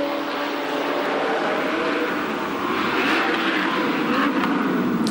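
Chevrolet Lumina V8 race cars at full throttle in a Bahrain championship race, a dense, steady roar of engines that swells slightly as cars pass, loud and continuous with no gaps.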